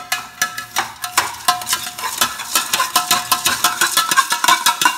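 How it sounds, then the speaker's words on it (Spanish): A metal fork stirring popcorn in a pot, a rapid run of loud close clinks and scrapes against the metal, rhythmic and busy, with the sound of the kernels shifting beneath. "entonces la vamos a revolver"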